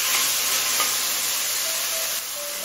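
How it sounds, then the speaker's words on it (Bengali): Chicken sizzling and frying in a pan with onion and tomato, a loud, close, continuous hiss with faint stirring scrapes, dropping slightly in level near the end. "চিকেন দিয়ে পেঁয়াজ আর টমেটোর সাথে মিনিট 3-4 কষিয়ে নিয়েছি।"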